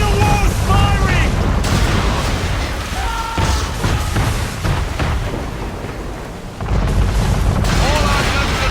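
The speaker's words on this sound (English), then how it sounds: "Man of war's firing!" Man-of-war warship cannons fire in Assassin's Creed 3, heavy booms and rumbling blasts repeating through dense battle noise, with shouted voices over the gunfire.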